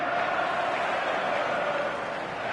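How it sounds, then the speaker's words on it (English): A passionate stadium crowd roars on a clear evening before a showcase match, a dense, loud, continuous wash of massed voices with no single voice standing out. "the matchday noise at this place is truly special"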